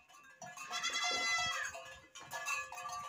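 A goat bleats loudly and close, a long wavering cry followed by a second shorter bleat.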